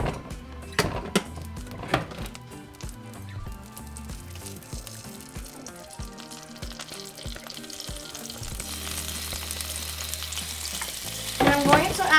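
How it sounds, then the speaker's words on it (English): Mole sauce sizzles and bubbles steadily in hot oil in a pan, with occasional scraping clatters of a utensil stirring, and no talking. "we're going to fry it"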